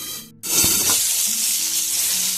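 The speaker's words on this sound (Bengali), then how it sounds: "আর এখন এটাকে আমি 2 মিনিট অন্তত এটাকে ভেজে নেব।" Pointed gourd (potol) frying in a pan, a hissing sizzle that bursts in after a brief silence and holds steadily, close and fairly loud.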